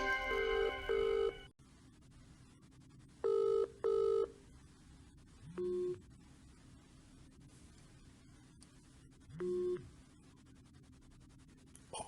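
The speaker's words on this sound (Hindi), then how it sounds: "लो जी, खलीफा जी फ़ोन ही कट रहे हैं।" During an outgoing phone call, a ringback tone sounds in repeated beeping bursts over line hiss, with a few gaps and brief lower tones between the rings.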